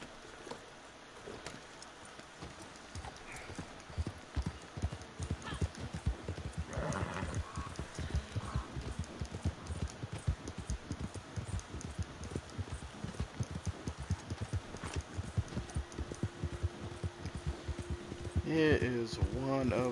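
Horse hooves clip-clop steadily in Red Dead Online, a rhythmic run of close hoofbeats with game ambience, a whinny and a voice talking briefly over it.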